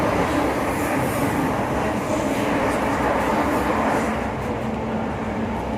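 Steady rumble of a moving New South Wales passenger train from inside the carriage, a continuous broadband roar with rattling underneath, no talking.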